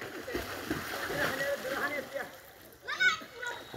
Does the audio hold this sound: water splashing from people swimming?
yes